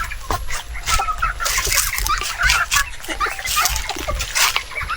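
Native chickens cluck and squawk busily at close range while being fed on a small farm, with scattered pecking and splashy clatter mixed into the steady flock chatter.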